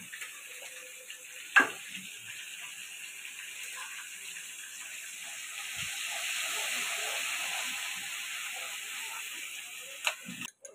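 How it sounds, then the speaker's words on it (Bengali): Onion paste frying in hot oil while cooking a Bengali chicken chaap, a soft steady sizzle and hiss that swells in the middle, with a couple of sharp utensil clinks. "এবার দিয়ে দেবো পেঁয়াজের পেস্ট।"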